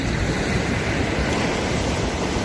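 Sea waves at the seaside, a steady, loud wash of surf blended with wind buffeting the microphone, continuous and unbroken, with no voices.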